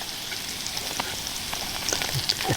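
Bacon crackles softly in a pan on a spirit stove outdoors in the woods, a faint, steady sizzle with occasional small pops and spits, heard alone at close range.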